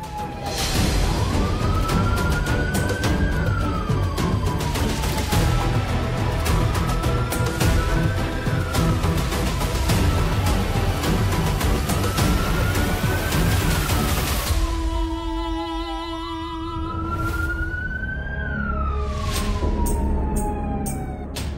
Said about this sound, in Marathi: हा पोलीस सायरनचा ऑडिओ मी प्ले केला होता.